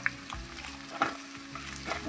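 Spiced country chicken with red chili powder and salt, stirred in a frying pan: a soft, steady sizzle broken by a few brief scraping strokes of the spatula.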